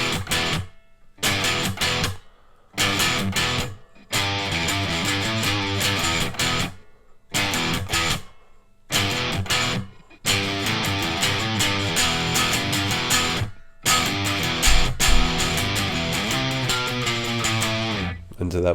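An electric guitar plays a distorted hard-rock riff, with choppy chords broken by short silent stops and sustained power chords in between. It is loud and close, and no one talks.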